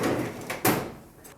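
A craft room drawer slides open or shut, a brief soft rumble with a sharper knock midway, heard close and alone.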